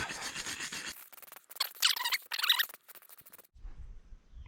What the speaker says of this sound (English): We'll clean that bolt off real good.